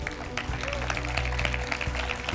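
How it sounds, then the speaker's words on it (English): A crowd applauds at a hackathon closing ceremony in London, with steady, dense clapping that carries on under a voice talking over a microphone. "can I get one more round of applause?"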